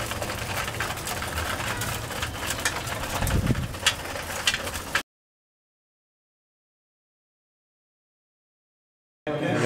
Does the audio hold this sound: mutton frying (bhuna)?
no